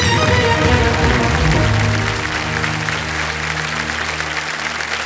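Studio audience on a Hindi TV quiz show (Kaun Banega Crorepati) bursting into loud, sustained applause, dense clapping over a musical sting with tones, easing slightly after two seconds but continuing strongly.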